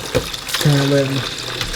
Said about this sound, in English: Turn some more cold water on